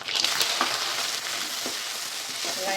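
Garlic and onion sauté in sesame oil with fenugreek seeds, giving a steady, dense hiss of frying close up, with a few faint stirring taps.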